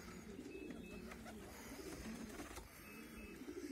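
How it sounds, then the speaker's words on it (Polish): Racing pigeons in a loft cooing steadily, a low throaty rolling coo repeated from several birds close by, with faint rustling and occasional soft chirps among them. "I na dole mamy gołębniki lotowe, wdowielniki samców, a na końcu siedzą samiczki po rozdzieleniu."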